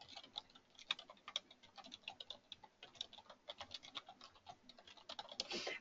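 Quiet, quick clicking of keys on a computer keyboard, an irregular run of taps close by with no speech.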